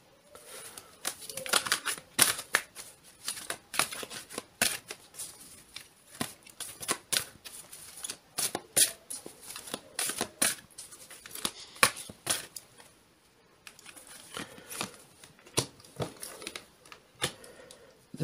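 Tarot cards are shuffled and drawn, giving quiet, irregular bursts of crisp flicking, riffling and papery slaps with short pauses between them and no voices.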